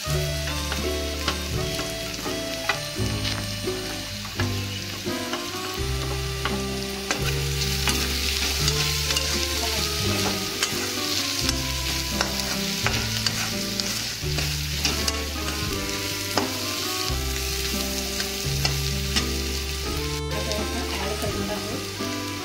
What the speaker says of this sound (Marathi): आपला कांदा सोनेरी भाजून झालेला आहे. नंतर आता आपण यात ॲड करणार आहोत हळद.